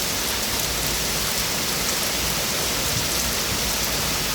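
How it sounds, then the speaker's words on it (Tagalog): Heavy rain pours steadily during a solo hike through a park in a rainstorm, a dense, continuous hiss of drops hitting the ground and foliage close by, with no voices. "heavy rain and thunderstorm"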